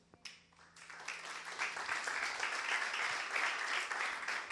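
A church congregation breaks into applause during a Spanish-language sermon, clapping starting sparse after a faint hum and quickly building into steady, rhythmic group clapping in a reverberant hall.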